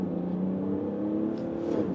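A Mercedes SUV diesel engine pulls away from a standstill under full throttle, a steady, close, rising drone that builds evenly with no talking over it.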